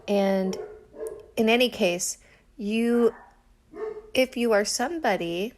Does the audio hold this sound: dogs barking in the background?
yes